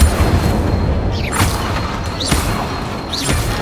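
Repeated fire spell casts in the video game Hogwarts Legacy, each a whooshing burst with a crackling flare, sounding three times over a continuous loud rumble of game noise.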